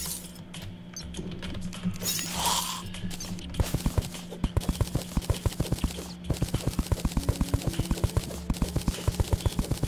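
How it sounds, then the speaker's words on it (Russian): Blocks in the Terraria video game break in a fast, machine-gun-like series of sharp clicks. The clicks run steadily for the second half over busy game sounds and background music. "Я прям как пулемет эти все блоки разрушаю."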